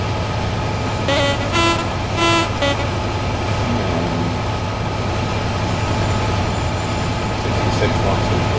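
In Train Sim World, an AWS warning horn on a West Coast Main Line freight train sounds several short tonal blasts over the steady rumble of the cab, with a voice talking quietly beneath.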